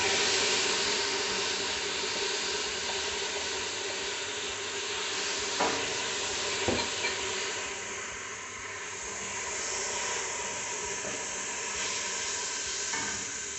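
Leek and tomato sizzle in a hot pan, a steady, soft frying hiss that continues throughout with a few faint clinks and stirring sounds, no voices heard.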